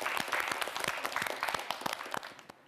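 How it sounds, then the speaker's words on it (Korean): A studio audience on a televised student quiz show applauds briskly, with crisp overlapping claps that hold steady for a couple of seconds before stopping abruptly. "여러분 큰 박수 보내주시기 바랍니다"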